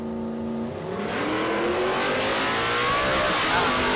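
A naturally aspirated four-door drag racing car revs hard at a Willowbank Raceway drag event. The engine note is loud and close, rising and holding for several seconds with no voices.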